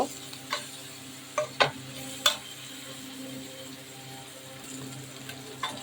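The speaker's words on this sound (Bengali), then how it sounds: "মশলাটা ভেজে নিতে হবে সুন্দর করে" Spices fry with turmeric and chili powder in a pan, giving a quiet sizzle with a few crisp spoon knocks and scrapes against the metal, then settling into a low steady hiss.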